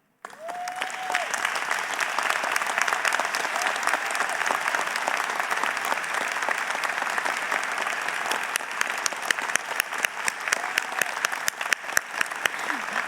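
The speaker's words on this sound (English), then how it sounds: "can you please stand up and receive a big round of applause?" Large audience at a college graduation ceremony in an arena clapping at length, a dense sustained roar of applause with a few sharper individual claps standing out toward the end.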